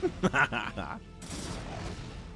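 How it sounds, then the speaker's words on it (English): Vulture units attacking in StarCraft: Brood War Remastered, a quick burst of several sharp weapon hits followed by a sustained hissing wash of battle noise. "Another vulture attack."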